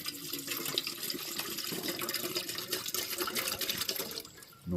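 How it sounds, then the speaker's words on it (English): Water pours steadily into a camp coffee percolator, a continuous splashing rush that carries on for several seconds before tapering off near the end. "Now, I'll go ahead and add the water."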